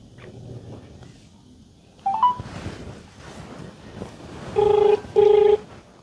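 An outgoing phone call produces two short electronic ringback tones near the end, loud and close, after a brief rising chirp and quiet background shuffling.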